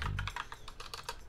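Typing on a computer keyboard to rename a video capture source in OBS Studio: a short, close run of about eight crisp key taps, with no talking.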